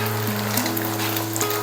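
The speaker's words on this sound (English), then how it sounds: "I'm still frying the tofu." Tofu frying in a pan with soy sauce sizzles as a steady, broadband hiss, loud and close, joined by a low electrical hum throughout.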